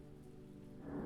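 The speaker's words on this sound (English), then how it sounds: "the rain outside has begun to taper off" Rain falling outside an old stone castle, a soft steady hiss and patter, faint and distant, swelling slightly toward the end.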